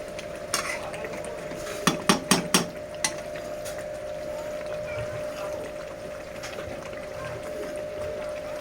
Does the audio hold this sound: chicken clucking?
no